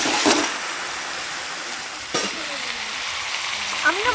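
Chicken meat dropped into fried spice paste in a pan for village-style cooking, a sharp burst of sizzling, then a steady hiss with a couple of stirring clatters, close by.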